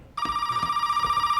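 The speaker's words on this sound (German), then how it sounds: "Oh, das Telefon!" A telephone rings in Resident Evil 7, starting abruptly with a loud, close, trilling electronic bell that holds a rapid steady pulse to the end, with no voices.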